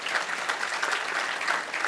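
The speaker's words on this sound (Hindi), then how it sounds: "इनका भी स्वागत तालियां बजा के होना चाहिए।" An audience at a devotional program gives a guest a burst of applause, dense steady clapping from a crowd that fills the whole short stretch, close and fairly loud.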